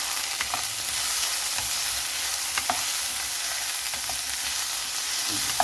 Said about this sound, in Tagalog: Lagay na natin ang ating beef guys.